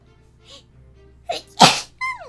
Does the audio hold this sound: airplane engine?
no